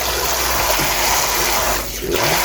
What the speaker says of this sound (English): I'm gonna put a little bit of hot water in here.